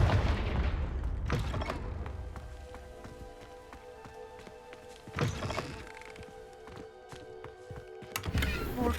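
A Confringo blasting spell going off in Hogwarts Legacy, inside a dusty, cobwebbed room: a loud burst at the start, then scattered thuds and crackling debris, with another sharp blast midway and a final one at the end.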